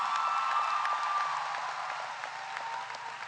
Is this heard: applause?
yes